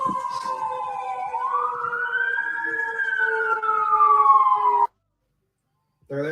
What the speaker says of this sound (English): Oh, there's the sirens.